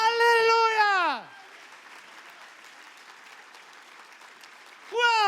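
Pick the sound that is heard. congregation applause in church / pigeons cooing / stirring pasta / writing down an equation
congregation applause in church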